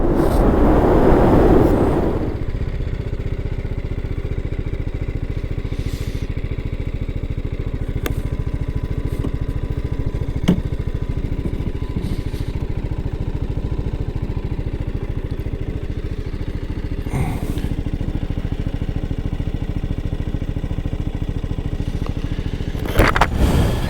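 A 2025 BMW G 310 GS motorcycle with its engine idling steadily up close, a low continuous hum broken by occasional clicks and light clatter, with a brief louder burst at the start and another near the end.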